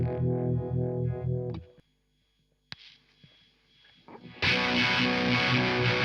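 An electric guitar runs through a fuzz pedal into a Keeley Monterey univibe pedal, giving thick, distorted, swirling chords. A ringing phrase stops, a brief quiet gap with picked notes follows, then a loud sustained fuzzed chord. No talk.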